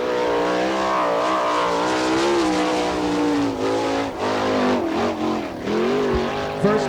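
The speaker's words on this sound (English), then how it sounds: "Rob Cheney up next in car number 42 from Millersburg" Sprint car number 42 on a Gambler chassis laps the dirt track at Attica, Ohio, its engine roaring loud and close with rising and falling pitch through the turns as it passes.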